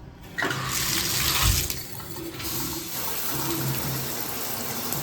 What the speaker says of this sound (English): Alright, here's the shower.